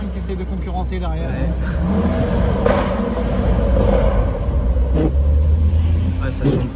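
A BMW M140i engine revs and rumbles loudly at close range, with a deep steady drone and a brief surge midway, while people talk over it.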